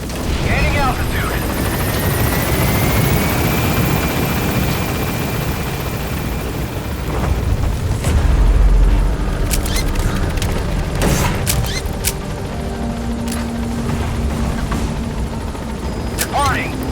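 A helicopter climbs away in the game Metal Gear Solid V, its rotor chop and turbine whine loud and continuous. Radio-style game voices speak over it, and sharp booms and clanks cut in near the middle and toward the end.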